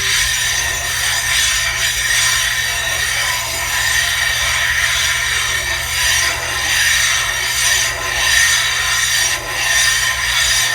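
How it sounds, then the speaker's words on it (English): A knife is sharpened on a diamond resin sharpening stone, steady gritty rubbing strokes repeating in a close, even rhythm with no talk. "with these knife sharpening stones, they combine the sharp cutting action of diamond with a very wear resistant bond."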